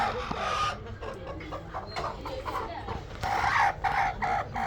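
Desi chickens kept on a rooftop, clucking in short repeated bursts at moderate distance over a low background rumble.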